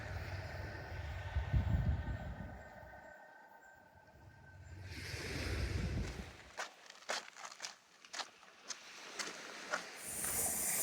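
A CrossCountry train in new livery passes along the Teignmouth seafront, a faint rumble that swells and fades, then a run of distinct rhythmic clacks as wheels cross rail joints.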